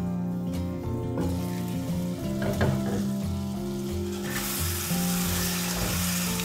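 Tomato curry sizzles and fries in a covered pot, a loud steady crackle with a few stirring clatters, the hiss swelling brighter toward the end.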